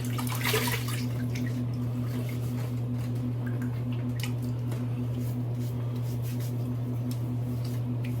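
Water splashes and drips steadily while someone rinses their face after a wet shave with sandalwood shave soap, close and continuous over a low steady hum.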